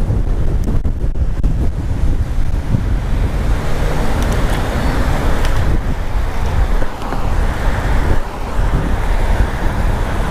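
Strong outdoor wind buffets the microphone in a continuous loud roar, with distant traffic rumble underneath and no talking.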